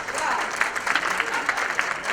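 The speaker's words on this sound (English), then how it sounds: "I never get applause. That's great." An audience at an arts center claps for a speaker taking the stage before a reading, a steady spread of many hands at moderate loudness throughout, with a voice coming through over it.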